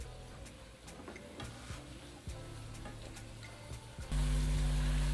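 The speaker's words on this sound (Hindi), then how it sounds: "पाँच मिनट हो गए मुझे इसे भूनते हुए" Tomato paste sizzling as it fries in a pan, a quiet bed of crackle with small tapping and stirring clicks, then a louder hum sets in near the end.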